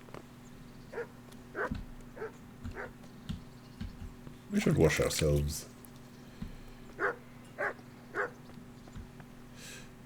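A dog in the medieval video game Kingdom Come: Deliverance lets out a series of short barks and yips at steady intervals, with one longer, louder whimpering outburst in the middle, while someone talks over it.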